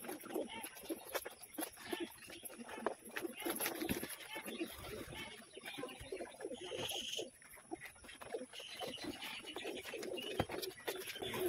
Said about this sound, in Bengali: পায়রাগুলো খাবার খাচ্ছে খুব শখ করে।